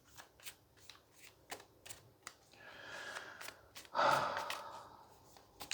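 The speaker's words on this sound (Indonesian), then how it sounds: "So, aku shuffle dulu kartunya ya." Tarot cards are shuffled by hand close up, quick papery riffles and taps building into a louder burst of sliding cards near the end, with soft breathing between.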